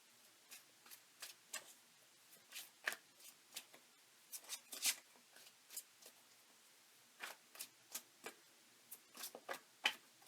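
An oracle card deck is handled in a quiet room, producing a dense run of crisp, close ticking card snaps and flicks, uneven in rhythm with brief pauses between bursts.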